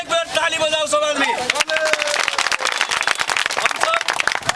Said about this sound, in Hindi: एक बेर ताली बजाओ सब आदमी